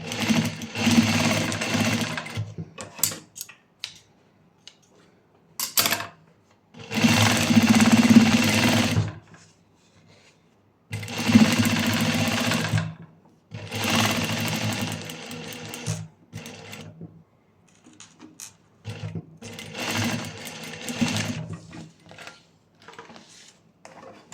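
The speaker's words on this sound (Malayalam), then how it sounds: "ഇങ്ങനെ വെച്ചിട്ട് സ്റ്റിച്ച് ചെയ്ത് കൊടുക്കാം" A sewing machine stitches piping made from scrap fabric left over in a tailoring shop. Loud, close bursts of rapid mechanical stitching alternate with short silent pauses, about five runs in all.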